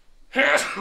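A single sharp sneeze bursts out close to the microphone during a podcast recording, loud and brief after a moment of near silence.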